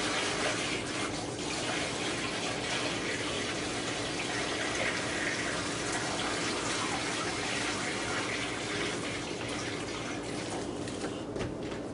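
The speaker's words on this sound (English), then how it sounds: "Cool water." Steady, broadband rush of water pouring from a tap, continuous and fairly loud throughout with no voices.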